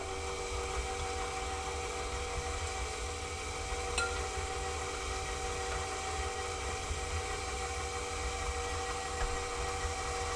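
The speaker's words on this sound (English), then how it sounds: "I'm going to turn the mixer on" A stand mixer runs steadily while kneading bread dough, giving a constant mid-level mechanical whir with a faint tonal hum that holds unchanged throughout, no voices.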